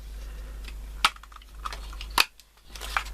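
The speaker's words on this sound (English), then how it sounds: "I'm just going to punch out 4 of those" A paper craft punch snaps shut while cutting little flower shapes out of cardstock for a Stampin' Up card, giving two sharp, close clicks about a second apart, then a softer third, with a low steady hum underneath.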